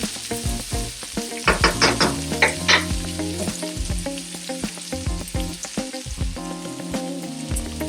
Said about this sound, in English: now we are going to saute the pork, the ginger, the garlic, and the onions together